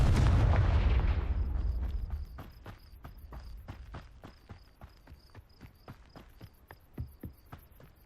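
Confringo explosive spell cast in the Hogwarts Legacy video game: a loud blast that fades over two seconds, followed by a string of quieter sharp pops and crackles against faint high ambience.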